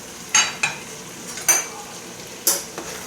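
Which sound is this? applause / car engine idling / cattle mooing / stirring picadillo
stirring picadillo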